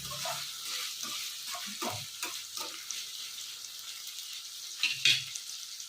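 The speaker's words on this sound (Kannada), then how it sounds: "ಈ ತರ ಫ್ರೈ ಮಾಡ್ತಾ ಇದ್ರೆ ರುಚಿಯಾಗಿರುತ್ತೆ ನೋಡಿ" Drumstick (moringa) pieces fry in a pan with a steady, faint sizzle, and a spoon scrapes and stirs them in soft irregular strokes, with a slightly louder clatter near the end.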